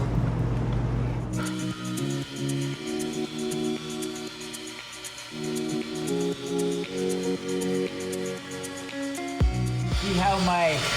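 A car polisher turns slowly at its lowest speed, speed 1, against a car's B pillar, giving a steady, even machine drone with a pulsing hum that runs nearly throughout, with a voice talking over it.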